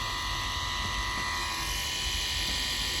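An Oster 76 cordless hair clipper runs with a steady, close, unbroken motor buzz and a bright high-pitched whine layered over a low hum.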